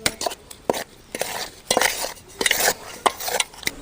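Repeated scraping and knocking of a utensil stirring thick ragi dough in a metal pot, in uneven strokes up close, with a faint sizzle underneath.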